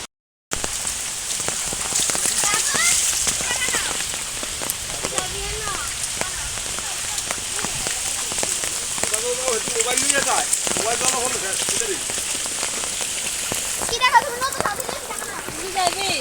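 Steady rain patters loudly and continuously on surfaces close by, with people talking over the downpour.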